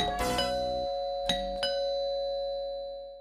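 A doorbell chimes in a Hindi TV drama with a bright ringing tone, struck once and then twice more, each note ringing on and slowly fading out.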